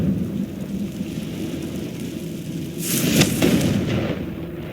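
A Confringo blasting spell goes off in Hogwarts Legacy, a loud, rumbling explosion that swells up midway and booms for a couple of seconds over a steady low ambient drone.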